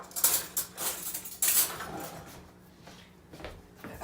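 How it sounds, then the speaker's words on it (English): Spoons and silverware clatter and jingle as a utensil is pulled from a kitchen drawer, several sharp metallic clinks and rattles close by, separated by brief quieter gaps. "let me get a spoon."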